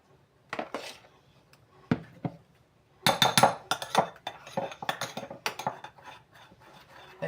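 Chocolate mousse cream is spooned into a cake mould, giving a series of light metallic clinks and scrapes of a spoon against the dish. They come in irregular bursts at close range, with short quiet gaps between them.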